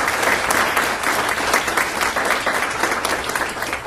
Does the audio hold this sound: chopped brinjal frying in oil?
no